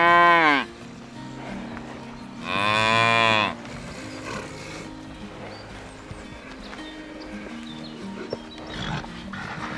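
A cow on a cattle farm moos twice, loud and close: a short low call at the start and a longer drawn-out bellow a couple of seconds later, with quiet farmyard background and faint knocks in between.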